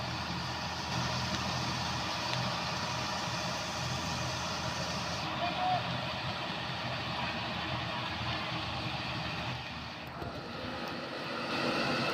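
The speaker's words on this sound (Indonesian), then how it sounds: "ini dia truk tangki yang melewati tikungan juram" A tanker truck rounds a steep, sharp bend on a hill road, its engine a steady, loud low drone with rumbling throughout, easing briefly near the end before swelling again.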